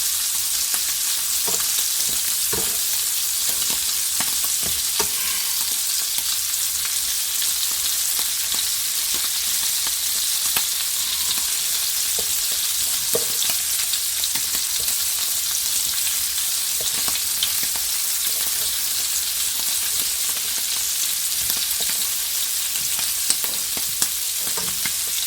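Scallops and shrimp sizzle steadily in a hot pan, a dense unbroken frying hiss with occasional pops and soft clinks of turning, close and even throughout with no talking.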